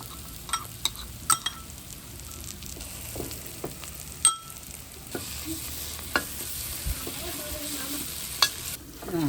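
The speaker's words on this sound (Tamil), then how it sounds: "இப்போ நாங்கள் இந்த உள்ளியும் செத்தமிளகாயும் போட்டு அரைச்சோமே அதை போடுவோம்." Ground garlic and dried chilli paste frying in a pan for Tamil egg rice, a low continuous sizzle broken by sharp spoon scrapes and stirring taps, close up with no talk.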